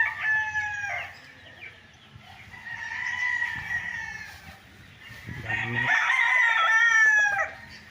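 Gamecocks bred for fighting crow repeatedly at a game farm in Pagsanjan, Laguna, long drawn-out crows from several birds, one near and loud, others more distant, with faint clucks beneath.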